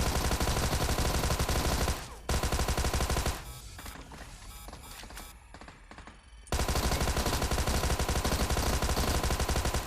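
Bursts of automatic gunfire from the video game PUBG while enemies are being shot: loud rapid fire, a short break, scattered sharper shots, then another long sustained burst.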